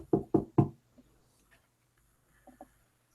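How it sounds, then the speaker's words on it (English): Three firm, evenly spaced knocks rap on a cabin door, close and clear, followed after a pause by a couple of softer, quicker taps. "hearing knocking on the door"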